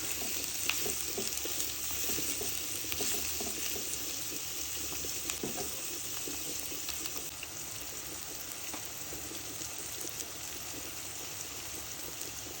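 Chopped onions and emptied green chilies frying in hot oil for a Bangladeshi fish jhuri dish, a faint, steady crackling sizzle broken by occasional stirring clicks.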